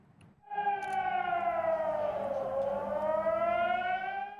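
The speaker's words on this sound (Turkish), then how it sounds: "Ukrayna'ya yılın ilk karı siren sesleri arasında düştü." A loud air raid siren in Ukraine wails steadily, its pitch sliding down and back up in one long sweeping tone after a short quiet start.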